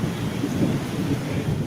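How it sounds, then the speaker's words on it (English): Recorded rain and thunder from Thailand, played back loudly: a steady broadband wash of rainfall with low rumbling underneath, continuous and even throughout with no voices. "Here's some rain in Thailand."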